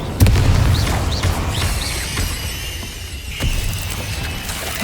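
The Incendio fire spell from the video game Hogwarts Legacy bursts with a loud booming blast and a rushing roar, followed by crackling and whooshing game effects that fade over a few seconds.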